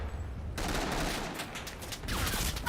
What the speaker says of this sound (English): the whole enemy team is shooting